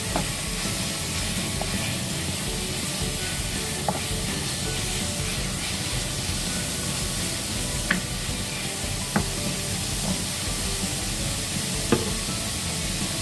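Oil heating with minced pork in a wok for ginataang sitaw gives a steady, close sizzle, with faint stirring clicks and a few sharp ticks of the utensil against the pan.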